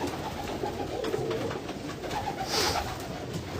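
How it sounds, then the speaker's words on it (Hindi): Pigeons coo softly and continuously on a Karachi rooftop against a busy background rumble, with a brief higher chirp partway through. "इसका आज पसंद आए कबूतर माशाल्लाह बहुत अच्छे कबूतर है"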